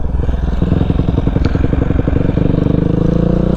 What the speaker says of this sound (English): this thing is a 2005 Husqvarna SM510